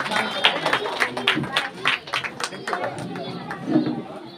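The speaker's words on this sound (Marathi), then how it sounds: "पुन्हा एकदा सर्वांचं टाळ्या वाजवून स्वागत करा" Audience clapping at a women's celebration event after group dance performances, scattered applause running beneath someone speaking into a microphone.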